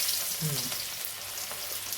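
Loud, steady sizzling and crackling of onions frying in hot oil, close by, with a brief low clunk early on.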